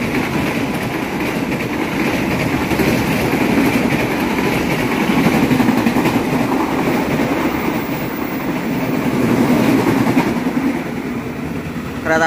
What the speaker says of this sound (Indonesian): kereta api yang melintas